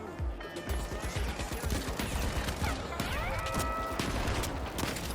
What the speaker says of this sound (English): we have the CL-40, a pretty underrated pump-action grenade launcher that can deal out a lot of damage